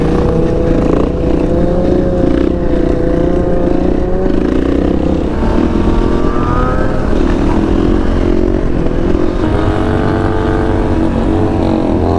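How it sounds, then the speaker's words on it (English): A Harley motorcycle speeds past while riding a wheelie on a street, its engine loud and close with a sustained roar that rises and shifts in pitch as it accelerates, with no talking. "Dude on the Harley hauling ass with his wheelie."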